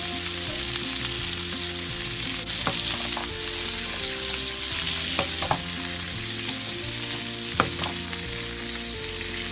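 Garlic sauce sizzles loudly in a stir-fry pan for a shrimp and bean dish, a dense continuous frying hiss marked by occasional clacks of stirring.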